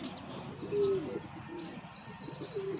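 Pigeons coo in short low throaty bursts, one clearer call near the start and another toward the end, over a steady murmur of background noise at a loft where paired breeding birds and a young white pigeon are kept.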